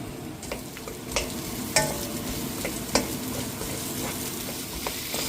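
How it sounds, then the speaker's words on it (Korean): Onions stir-fry in a hot pan for a tomato stew, giving a steady crackling sizzle broken by a few sharp scrapes and taps of a spatula against the pan. "양파 볶습니다"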